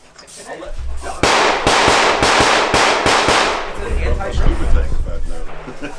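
Rapid rifle shots from a Delta Team Tactical 5.56 upper with a 5.5-inch barrel and prism optic at a gun makers' match, a loud string of about eight sharp cracks followed by quieter echoes and faint voices.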